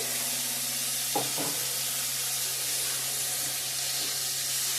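Steady, close sizzling of food frying in a pan fills the whole stretch, with a low hum underneath and a couple of brief knocks early on, and no one speaking.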